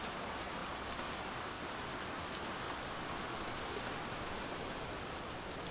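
Steady rain patters on a surface, with scattered drops, an even close wash of noise running the whole time without a pause or voice, used as an effect in a radio drama.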